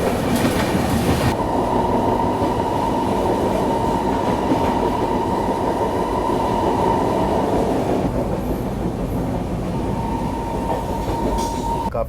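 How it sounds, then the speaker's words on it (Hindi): Bihar Sampark Kranti Express rolling through Tundla Junction, a loud, steady rumble of wheels and carriages close by, with a thin sustained squeal running through it and no talking. "तो काफ़ी देर रुकने के बाद फाइनली अपनी ट्रेन टुंडला जंक्शन को स्किप कर रही है।"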